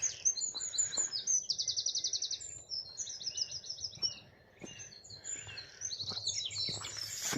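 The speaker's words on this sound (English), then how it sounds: "Plenty of lovely bird song this morning." Several songbirds sing and chirp on an early morning nature walk around 7:15, with bright trilled phrases and quick repeated notes, fairly close and clear, no voices.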